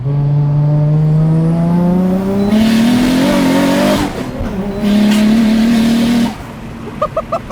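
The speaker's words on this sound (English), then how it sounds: "Oh man, that flutter there." A 400 hp Toyota Chaser with a 1JZ engine accelerates hard through the gears, its loud exhaust rising in pitch with a gear change midway, then lifting off with a brief turbo flutter at the end.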